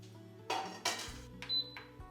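Metal utensil knocks against the inner pot of an Instant Pot while a tadka is made, a few sharp clinks spaced apart over a low steady hum.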